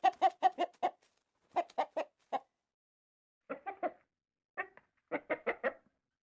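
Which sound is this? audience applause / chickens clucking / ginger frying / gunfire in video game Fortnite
chickens clucking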